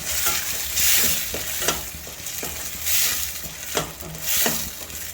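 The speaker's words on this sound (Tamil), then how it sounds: "பச்சை வாசனை போகிற அளவுக்கு தக்காளியை கொஞ்சம் நல்லா வதக்கிக்கணும்." Ground tomato frying in a pan over sautéed onions, a loud, close sizzle that swells and fades as it is stirred, with regular scraping strokes and spoon taps throughout; no speech.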